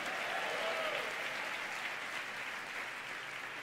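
Church congregation applauding during a service, dense and steady clapping from many hands throughout, a faint voice briefly rising over it near the start.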